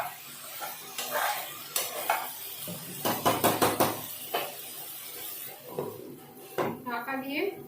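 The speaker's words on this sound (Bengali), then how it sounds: "আলুতে আর কপিতে একটু ভালো করে কষিয়ে নেবো।" A spoon scrapes and clatters in a pan while boiled potato and cauliflower are stirred together, with irregular knocks and a louder burst of clinks midway. A voice talks over parts of it.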